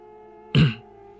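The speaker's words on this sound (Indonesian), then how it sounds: "akhirnya berdeham pelan lalu berkata" One soft, short throat clearing sounds close by in an otherwise quiet room.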